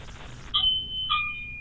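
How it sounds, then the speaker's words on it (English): Two bright electronic chime tones from a doorbell camera on a playhouse door, about half a second apart, ringing clearly over a low background hum. "So, it's malfunctioning? Or was that just a doorbell?"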